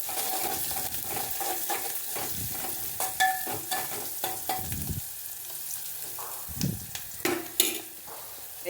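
Ingredients for gongura chutney fry and crackle in a pan, a steady close sizzle broken by scraping stirs and small clinks of the spoon.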